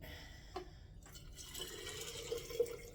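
Water pours into a home-canning jar packed with kidney beans, a quiet, steady trickle whose tone rises slightly as the jar fills, with a faint clink partway through.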